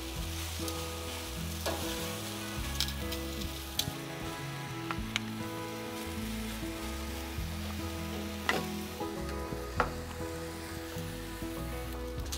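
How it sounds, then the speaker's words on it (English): BBQ tofu sizzling on an outdoor grill, a steady close crackle and hiss with scattered sharper pops, continuous throughout and with no talking. "as we go out and grill the tofu"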